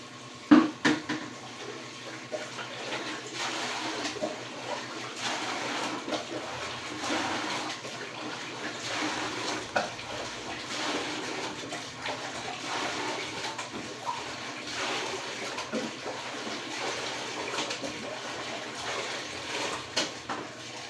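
Water runs steadily for a long stretch, splashing and gushing into a basin for washing laundry, with occasional clatters and a voice murmuring now and then.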